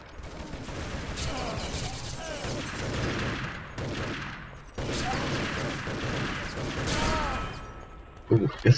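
Rapid bursts of automatic gunfire and mechanical clatter from the competitive shooter video game Urban Zone, recurring through a tense round with a voice in the background.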